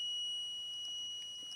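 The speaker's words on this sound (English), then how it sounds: "the buzzer" A buzzer on a bin-level monitor sounds once the measured distance inside the bin drops below 10 cm. It gives a steady, fairly faint high-pitched electronic tone that runs the whole time, with a few soft beeps layered on top.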